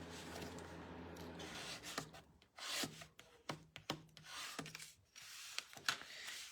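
Card stock paper being folded and burnished by hand, heard as close, quiet rubbing and scraping strokes in short bursts with brief pauses between them; no voices.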